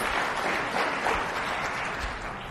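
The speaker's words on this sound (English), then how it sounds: "So give yourselves a hand of applause first." An audience at a business presentation on agent branding applauds, a dense, even wash of clapping from a crowd at moderate distance, with no speech over it.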